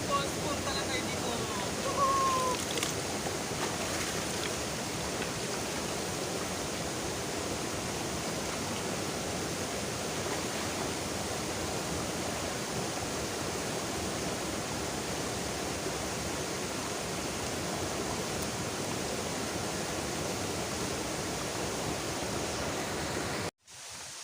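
Kasabangan Falls on Biliran island gives off a steady, even rush of falling water that continues unbroken for over twenty seconds before cutting off abruptly.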